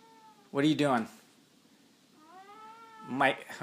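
A house cat meowing for attention, two loud drawn-out meows close by, separated by a softer, fainter mewing cry.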